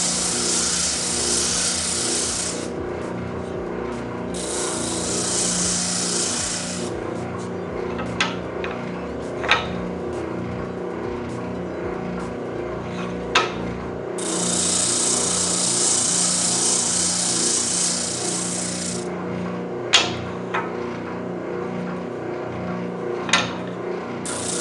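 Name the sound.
spindle sander sanding inside curves of wood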